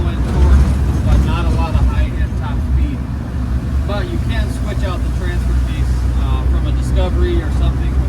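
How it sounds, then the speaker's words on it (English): A 1995 Land Rover Defender 110 with the 200Tdi diesel engine accelerates in fourth gear at about 35 mph, giving a steady, loud low rumble with road and wind noise while someone talks over it from inside the cab. "see, I'm accelerating in 4th gear at 35 miles an hour"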